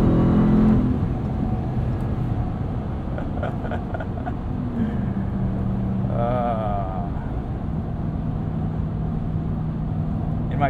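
A 2021 Ram 1500 TRX drives at night in sport mode, its stiff-suspension truck carrying a steady, loud road roar of vocal tires and engine drone throughout, with a brief rising whine midway.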